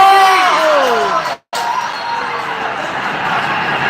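A big crowd roars and cheers through an Indonesia versus Qatar football match, loud and sustained, with a commentator's voice rising over it before a brief cut and the crowd noise carrying on.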